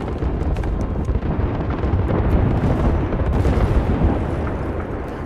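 Airstrike explosions in Apex Legends rumble heavily and continuously, overlapping blasts and booms making a dense, loud low-frequency barrage with scattered sharp cracks throughout.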